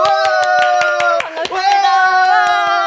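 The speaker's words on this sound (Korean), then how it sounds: "박수!" A church youth group of middle and high schoolers claps along in steady, evenly timed beats during a Sunday service, the close, loud claps riding over a sustained musical tone with a brief pause midway.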